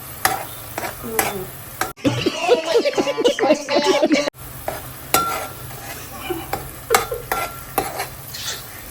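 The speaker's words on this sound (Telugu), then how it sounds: "ఆయన ఇక్కడ ఆనియన్ వేగుతుంది" Onions sizzling and frying in a pan in a home kitchen, with stirring scrapes and a busy crackle, a brief louder burst midway, and people talking nearby.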